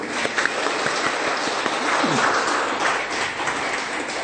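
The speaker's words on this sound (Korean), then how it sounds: "이분들에게 큰 박수를 보내드립니다." Steady applause from a crowd, a dense wash of many hands clapping at once, with no speech over it.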